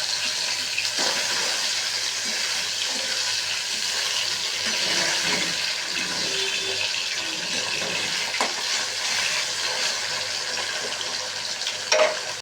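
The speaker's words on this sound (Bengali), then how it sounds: "কড়াইতে সর্ষের তেল দিয়ে দিয়েছি, ধোঁয়া উঠে গেছে, মাছগুলোকে ভেজে নেবো" Small fish frying in smoking-hot mustard oil in a wok, giving a continuous close sizzle and spatter with occasional stirring clinks, and no talking.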